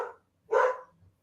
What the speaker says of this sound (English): that's my dog's barking